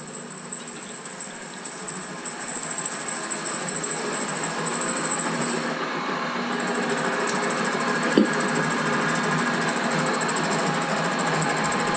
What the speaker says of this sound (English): We're cutting the 304 stainless steel with a bog standard high-speed steel end mill, and it's cutting it really well.